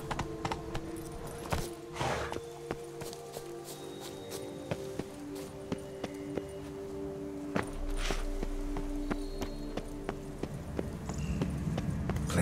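Roach, Geralt's horse in The Witcher 3, trots with regular hoof clip-clops alongside jingling tack, steady and close, then a low rumble swells near the end.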